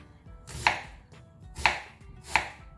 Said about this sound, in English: I'll start chopping my onions